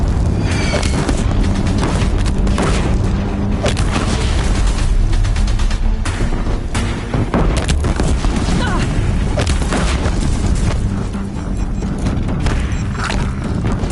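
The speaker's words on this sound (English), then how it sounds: "If the Deathbringers keep firing, this bridge will go!" Deathbringer machines in Horizon Zero Dawn fire continuously, with booming explosions and crashing impacts over a bridge battle, loud and dense for the whole stretch; a voice shouts briefly under the din.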